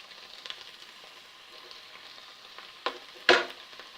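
Banana sweet cutlets fry in hot oil, a soft continuous sizzle with a few sharp crackles and spatters near the end.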